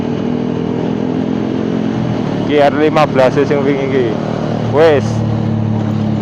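A Suzuki Satria FU motorcycle engine idles and then revs hard in second gear in a few sharp rising and falling bursts, loud and close, with a brief voice near the start.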